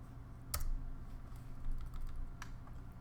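Computer keyboard typing while entering values in AutoCAD drafting: a few sharp key clicks, including a louder tap near the start and another toward the end, over a quiet room hum.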